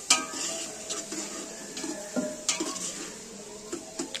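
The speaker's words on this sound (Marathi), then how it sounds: "टोपामध्ये आहे ना कांदा आणि तेल आपण टाकलेलं आहे आणि कांदा शिजवून घेत आहेत आपण" Onion and oil cooking in a pot for a mutton dish made on a wood-fired stove, light sizzling under repeated close clinks and scrapes of a metal spoon stirring against the pot.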